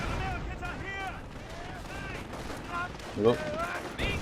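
Machine guns fire in the Company of Heroes strategy game, rattling bursts mixed with distant battle noise while a voice talks over most of it.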